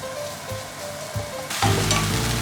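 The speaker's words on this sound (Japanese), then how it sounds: "このフライパン、同じフライパンに長ネギを入れます" Japanese leek (naganegi) hits an oiled frying pan over medium heat, a quiet pan hiss jumping partway through into a loud, sustained close-up sizzle with crackling.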